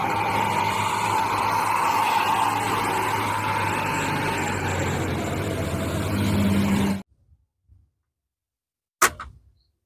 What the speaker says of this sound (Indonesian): Wow, lihat di sini ada mobil truk tangki.